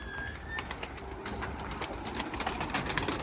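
Pigeons coo and flutter nearby, with soft repeated calls and scattered clicks over a faint outdoor background.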